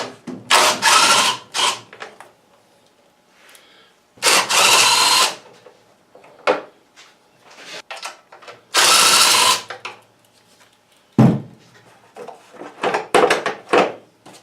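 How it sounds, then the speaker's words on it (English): A power drill driver whines loudly in several short, close bursts, removing the 9mm engine cowling bolts on a lawn tractor, separated by handling clatter and brief clicks of loosening bolts. "I'm going to start by taking this engine cowling off, and that's a 9mm. So I got my drill driver here"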